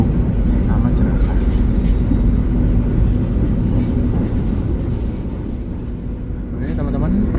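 A ride aboard the Argo Anjasmoro passenger train in Indonesia: loud, steady interior rumble of wheels on rails and a droning hum throughout, with faint talk mixed in.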